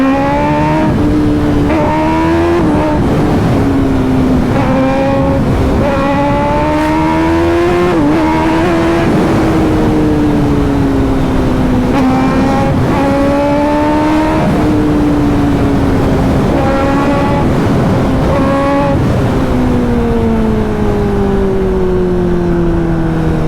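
A Kawasaki Ninja ZX-10R sport motorcycle accelerates hard at speed, its engine climbing through repeated rising revs with brief drops between gear shifts, loud and close with wind noise throughout.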